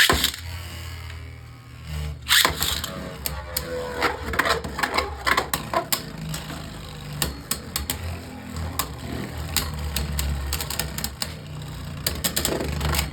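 Beyblade Burst spinning tops, including Bolt Spryzen, clashing in a plastic stadium: a dense run of sharp clicks and rattling hits over a steady whirring hum, with a louder burst of impacts as the launch begins.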